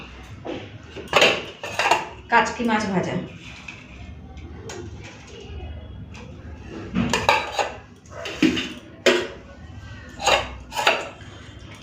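Dishes and utensils clink and clatter while rice and fish are served, with scattered bright knocks and scrapes in bursts, and a voice speaking briefly between them.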